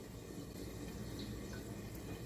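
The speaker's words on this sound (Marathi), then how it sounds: "याच्यावर पाणी टाकते।" Water poured from close by onto chicken being cooked in a pan for Mughlai chicken, a steady rushing fill for a couple of seconds with no talk.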